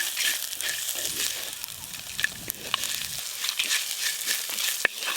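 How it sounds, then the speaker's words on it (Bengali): Whole spices such as mace, cinnamon, cardamom, cloves, peppercorns, coriander, fennel, dried chillies and cumin frying with onion in a pan, a steady close sizzle with occasional pops and crackles, no talking. "শুকনো লঙ্কা আর গোটা জিরে পেঁয়াজের সাথে ভেজে নেব"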